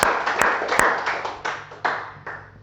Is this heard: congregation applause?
yes